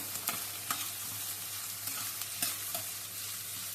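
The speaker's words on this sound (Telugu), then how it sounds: "ఇది ఒక్కసారి తిప్పుదాం" Carrot pieces sizzle softly in a pan for semiya bath as a spoon stirs them, with a few faint scraping clicks over a steady low frying hiss and no talking.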